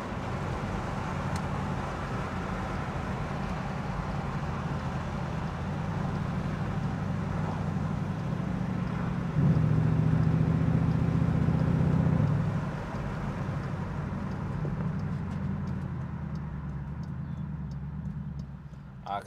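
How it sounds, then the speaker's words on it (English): A Dodge Durango RT with a 345 Hemi engine revs and rumbles as it downshifts, with a louder, steady engine swell for a few seconds in the middle over continuous road noise. No one speaks. "Downshift right there."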